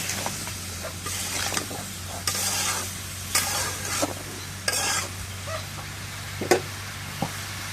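A spice mixture is stir-fried in a pan with a constant low sizzle, broken by repeated bursts of a spatula scraping and stirring, and a few sharp clinks near the end.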